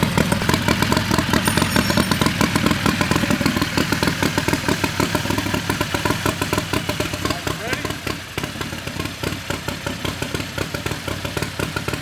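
A turbocharged 670 V-twin engine, running rich, idles roughly and loudly close by, with an uneven, pulsing chug and clatter that holds steady throughout.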